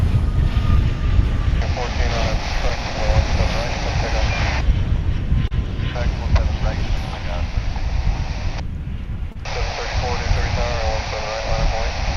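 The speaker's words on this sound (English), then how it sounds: "Here's a flight coming in from San Antonio, Texas on American Airlines." An American Airlines airliner inbound from San Antonio roars on arrival at DFW International Airport, a loud, sustained engine rumble and whine, broken briefly by short gaps.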